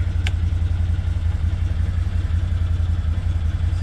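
A Can-Am Defender UTV engine idles while warming up, a steady low rumble with light clatter, close and constant, with no talking.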